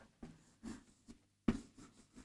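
Pen writing a word by hand on paper in a Ukrainian school lesson, a few short scratchy strokes separated by pauses, close and faint.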